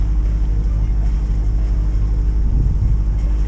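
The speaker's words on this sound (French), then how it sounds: "on a remis la machine en route, il n'y a plus de vent" A sailboat's engine motoring at sea in calm air, a loud, steady low rumble with a constant throb. Faint water or wind wash rides on top, and no one speaks.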